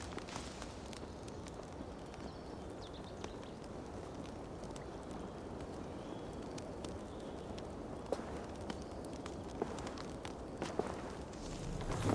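Horse hooves plod steadily on ground in Assassin's Creed Valhalla, a continuous rhythmic clip-clop of walking steps at moderate level with a few louder knocks, heard alone.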